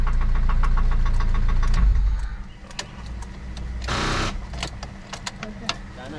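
A car engine running roughly with a knocking fault, loud and close, with a steady rapid ticking knock before it drops to a quieter uneven idle with clanks and a brief rushing burst.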